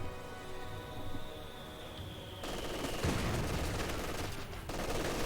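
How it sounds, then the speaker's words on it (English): MG42 machine gun fire in a World War II strategy video game: steady bursts of distant automatic gunfire under a dense layer of game battle noise, fairly faint throughout. "And the MG42 getting suppression on these riflemen."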